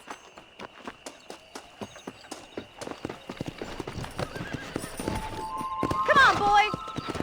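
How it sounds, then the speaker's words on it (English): Horse hooves clip-clopping in the video game Red Dead Redemption, a steady run of close, rhythmic hoofbeats that quicken and build, with a brief horse whinny near the end. "I'll show you how we ride round these parts"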